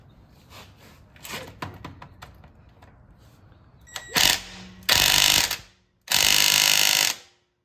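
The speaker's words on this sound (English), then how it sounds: "And now I'm gonna take off the lug nuts." A ratchet wrench loosens car wheel lug nuts during a home brake job. Soft clicks come first, then three loud, sustained bursts of rapid ratcheting close by.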